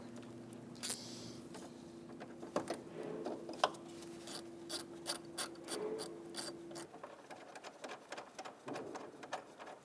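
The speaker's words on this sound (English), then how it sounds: "we're going to undo this bolt with an 8mm socket" A socket wrench with an 8mm socket undoing a bolt on a 2000-2007 Ford Taurus AC condenser cooling fan assembly, a run of quick, close ratcheting clicks in short bursts, fairly faint.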